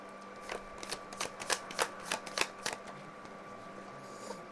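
Tarot cards are laid out one by one on a board, making a series of crisp close slaps and flicks in an uneven rhythm, with quiet room tone between them.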